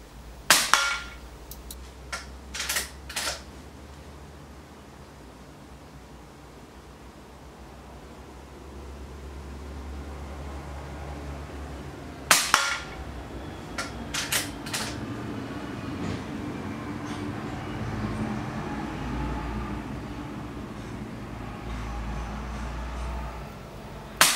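A blueprinted BSA Superten air rifle fires JSB Exact Jumbo pellets at a range, with sharp cracks in small clusters separated by long pauses over steady background noise.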